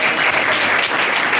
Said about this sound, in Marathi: प्रत्येक जणाला टाळ्या वाजवा.